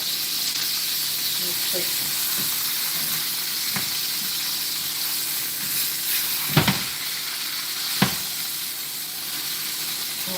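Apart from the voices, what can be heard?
steak searing in a pan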